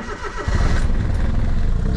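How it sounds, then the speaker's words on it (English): A Suzuki Cappuccino with an exhaust leak cold-starts on a 30-degree day: a short cranking, then the small engine catches and settles into a loud, rough idle close by. "Let's see if I get a good cold start."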